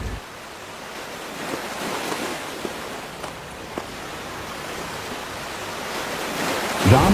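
Ocean surf from the sea in an animated Ramayana tale about building the bridge to Lanka, heard as a steady, broad wash of rolling waves mixed with wind noise, continuous and fairly close, with no voices.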